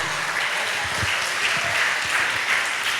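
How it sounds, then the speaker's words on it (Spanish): A church congregation applauds in a steady, dense wash of clapping that fills the space without letup, fairly loud and close, with no voice standing out above it. "Dale un buen aplauso al Señor."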